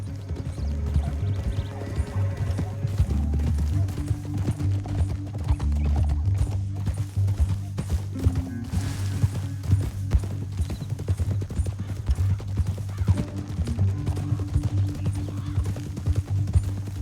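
Horse hooves clip-clop at a steady riding pace in Red Dead Redemption 2, close and continuous under a low orchestral music bed, with a brief whinny.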